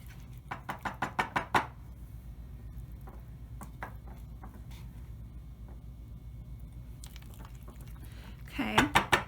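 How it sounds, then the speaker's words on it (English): A utensil scrapes and taps against a bowl while food is mixed after microwaving, with a quick run of clinks at the start and more near the end, fairly faint, with a little speech. "We're gonna mix this up again."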